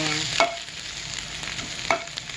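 A spatula stirs corn-flour fried rice in a hot pan, with two distinct scraping strokes over a steady close sizzle and no talking.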